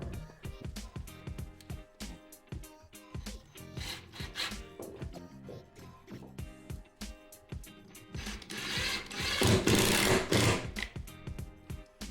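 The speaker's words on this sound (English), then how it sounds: "So I'm just going to cut off a block of CLS" A block of CLS timber being cut with a hand saw while repairing floorboards, rhythmic rasping strokes that speed up and grow louder near the end, close by with no talking.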